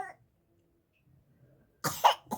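A child gives a short burst of loud, harsh coughs close by after a quiet pause.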